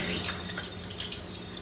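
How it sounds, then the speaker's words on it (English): Rice being washed in a pot of water, shaken so the water swishes and splashes continuously at close range, with a running-water character and no talk. "put some water in there and shake the rice around"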